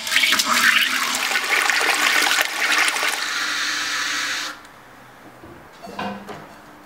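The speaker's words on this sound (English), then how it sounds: "we gotta fill her up with cold water" A hot liquor tank being filled with cold water: a loud, rushing gush of water pours steadily for several seconds, then cuts off abruptly, followed by quieter trickling and a brief knock or slosh.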